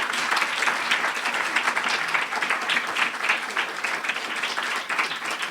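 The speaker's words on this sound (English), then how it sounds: "let's give all of our briefers at one time a round of applause." A room of listeners at a closing briefing session applauds together, dense and even clapping from many hands that carries on steadily without a break.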